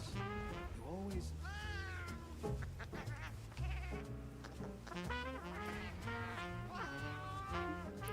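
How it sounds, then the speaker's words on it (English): Cat meowing in Monster Hunter Wilds, several rising and falling meows over game music and effects, with a voice speaking now and then. "I like kitty sounds."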